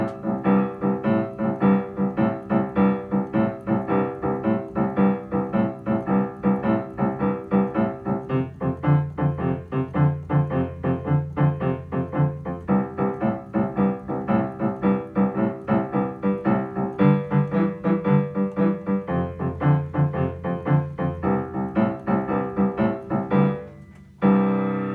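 A band plays a steady 12-bar blues progression with bass, chords and drums, a continuous full-sounding performance that cuts off abruptly just before the end.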